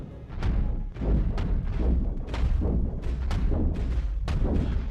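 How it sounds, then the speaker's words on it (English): A massive cannon on a spaceship in the space game Cosmoteer fires again and again, booming at an irregular rhythm over a dense, rumbling battle din, loud and close throughout. "He's got a massive cannon."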